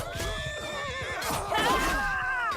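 Horse neighing during a Mount & Blade-style video game battle: two loud, close whinnies with descending harmonic trills, over faint hoof clip-clops and battle noise, no speech.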